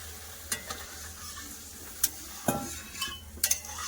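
Rohu fish curry masala sizzles and bubbles in a pan after water is added, a soft steady hiss broken by occasional clinks of a spoon stirring against the metal.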